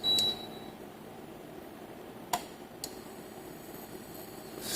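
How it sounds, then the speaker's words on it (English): Relays inside an NE-011 induction cooker click a few times, two sharp distinct ticks over a steady low hum, with a faint electronic beep at the start. "You can hear relays cutting off and another one cutting on at different settings."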